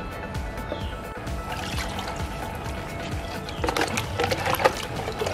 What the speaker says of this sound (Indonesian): supaya steril lagi kita siram dengan fungisida